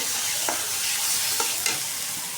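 Ginger, garlic, chili powder, coriander, turmeric and cumin paste hit hot oil together for an egg and potato curry, giving a steady, bright sizzle with a few soft stirring scrapes.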